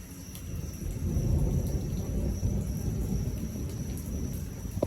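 Late-night thunder from a Dayton thunderstorm rolls as a long low rumble that swells and lingers over steady rain noise, fairly distant, with no talking.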